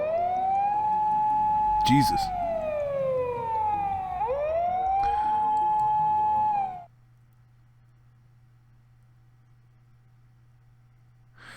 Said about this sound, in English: a shrill siren shatters in the night